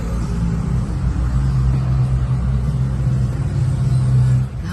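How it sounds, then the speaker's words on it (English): Steady low rumble of road traffic, continuous car and engine noise droning throughout, fairly loud with no distinct single vehicle standing out. "a whole bunch of what would be evening peak hour traffic sounds"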